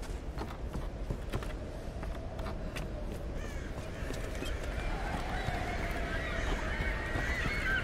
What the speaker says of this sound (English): That's a lot of seagulls.